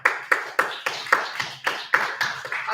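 A church congregation claps in unison during a worship service, about ten sharp, evenly spaced claps in a steady rhythm, loud and close, with no talking.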